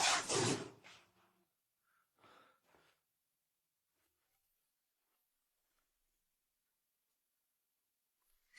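Someone rummages through drawers and cabinets, making a loud clattering slide followed by a couple of softer knocks, and then a long stretch of near silence.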